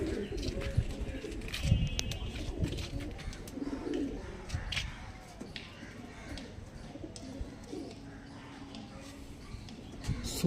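Andhra Madras pigeons kept at home, red sira and ful sira types, coo steadily and fairly close, soft throaty calls overlapping through the whole stretch with light rustling and a few chirps.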